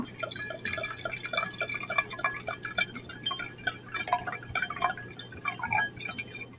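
Wine is poured into a glass in a heavy pour, a close, quiet run of trickling and dripping liquid with small glassy clinks and no speech.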